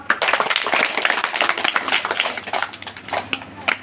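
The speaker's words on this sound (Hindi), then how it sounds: "बहुत अच्छी, ताली बजाओ बेटा।" Children clapping together during a quiz session on Sanatan Dharma, a fast, uneven patter of small hands that is close and lively, with no talk over it.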